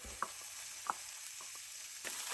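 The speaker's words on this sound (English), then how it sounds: "So I'm heating up this frying pan again on the highest heat, and I want to start with the heart and the liver" Raw lamb heart and liver sizzle faintly in a frying pan on the highest heat, a steady hiss with a few light taps and stirring clicks.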